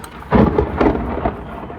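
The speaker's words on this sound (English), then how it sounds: "Oh, that was lightning." Thunder in a storm, heard from inside a car: a dull, muffled rolling rumble in two or three swells over a couple of seconds, moderately loud, with no talking.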